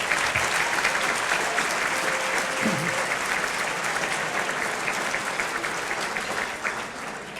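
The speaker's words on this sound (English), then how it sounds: "So another round of applause for those folks as well." Sustained applause from a banquet audience at a Teachers of the Year honors dinner, dense steady clapping filling the room for several seconds without speech.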